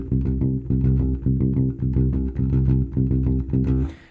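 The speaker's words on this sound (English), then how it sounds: "for most of the song it's a simple one-note figure on C that sounds like this" A synth bass line from a cover song hammers one repeated note on C in a steady, driving percussive rhythm, loud and alone throughout.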